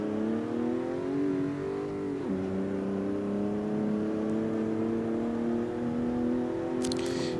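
A BMW M46 engine in CarX Street hums steadily at a high idle, dipping briefly in pitch before rising again and holding a sustained revving drone.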